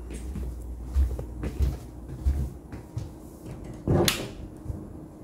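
Pantry cupboard doors being opened and shut in a house, giving several soft knocks and thumps spaced through the stretch, with one sharper clack near the end.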